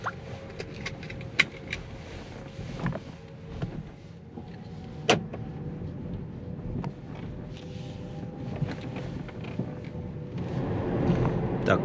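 A Kia Niro EV electric car with about 77,000 km on it, heard from inside while driving: low road rumble and cabin hum with occasional faint clicks and knocks, quiet overall, swelling slightly toward the end.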